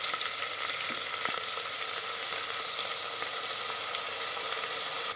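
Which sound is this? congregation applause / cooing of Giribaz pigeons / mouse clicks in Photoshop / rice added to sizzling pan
rice added to sizzling pan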